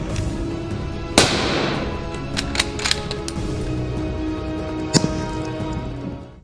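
Gunfire at a Line-X coated steel plate outdoors: a sharp loud report near the start, a second crack later and scattered metallic ticks over steady background noise.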